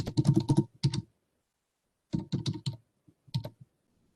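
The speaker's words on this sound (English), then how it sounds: "I type it the first time" Typing a comment on a computer keyboard: two quick bursts of close, crisp key clicks separated by a pause, then a few final taps, in an otherwise quiet room.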